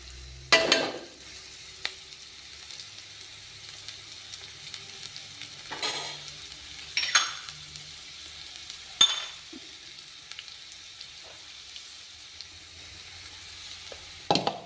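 Coriander rice sizzles softly in a pan, frying toward golden, broken by a few sharp scrapes and clinks of a spoon stirring at irregular intervals; no one speaks.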